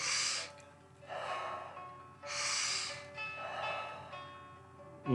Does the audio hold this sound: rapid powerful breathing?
yes